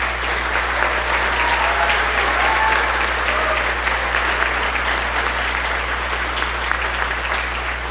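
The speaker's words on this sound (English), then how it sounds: "Let's give all of these students one more round of applause." Sustained, dense applause from a concert audience honoring middle school and junior high music students at an awards ceremony, loud and steady for the whole stretch with no talking over it.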